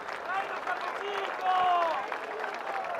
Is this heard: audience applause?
yes